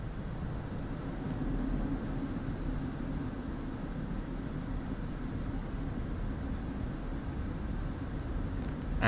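A JF-17 Thunder jet at full throttle on its takeoff roll in DCS, heard as a steady, loud, broadband engine roar that holds even throughout with no speech.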